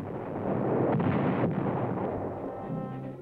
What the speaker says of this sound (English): The big tank guns get a workout on the firing line.